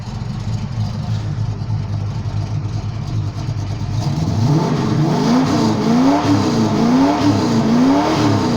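A Ford 351 Cleveland V8 with a 400 cam and performance parts, cold-started and revved hard. It starts with a loud rough rumble, then repeated sharp rev swells rise and fall in quick succession close by.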